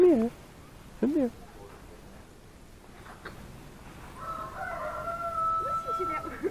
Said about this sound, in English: Listen to that rooster.